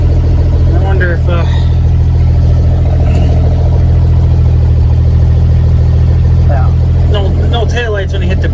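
An L-130 truck engine idles at night with a steady low rumble throughout, while someone talks intermittently over it.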